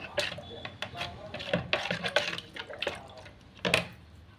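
Water, about 250 ml, splashes and trickles as Pseudomonas is stirred in with clinks of a utensil in a container, close by, in short uneven bursts.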